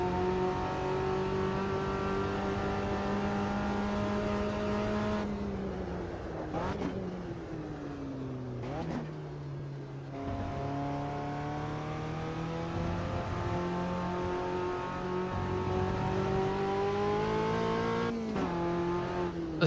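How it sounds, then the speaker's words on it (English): A Copa Uno race car engine in Automobilista 2 drones loud and steady through a hot lap, its pitch dipping on downshifts and braking and then climbing again under acceleration. "Even though I'm just kind of racing by myself, essentially hot lapping, in a Copa Uno"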